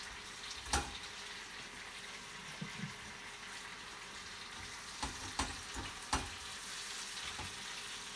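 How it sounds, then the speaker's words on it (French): Apples cooking in a pan for a tarte tatin, a soft continuous sizzle with a few faint clinks and stirring knocks over it. "Donc là, on va faire cuire les pommes"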